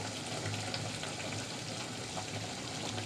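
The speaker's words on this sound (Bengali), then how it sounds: "এ পর্যায়ে আসলে একটু ঘন ঘন নাড়াচাড়া করে দিতে হবে না হলে নিচে লেগে যাওয়ার সম্ভাবনা থাকে" Olive pickle cooks in a pan while being stirred often, a dense, steady, low-level bubbling sizzle with no distinct strokes and no voices.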